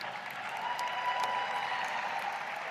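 An audience at an AFT union convention cheering and applauding, a dense, steady wash of clapping and shouts sustained throughout the short moment with no speech over it.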